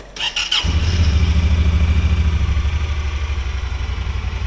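A side-by-side UTV with a previously faulty gear shifter cranks briefly, then its engine catches and settles into a loud, close, steady idle with a rapid pulsing rhythm.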